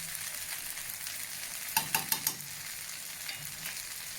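Rice with pav bhaji masala being stirred on a tawa for Mumbai-style tawa pulao, a faint steady sizzle broken by a quick run of four spatula scrapes and clacks, then quieter frying, no talk.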